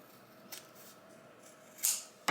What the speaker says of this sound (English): you can take your scissors and you can just trim